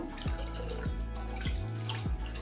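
Water poured into a bowl of curd to make buttermilk, a continuous close trickle with gurgling drips recurring at a steady rhythm and no voices.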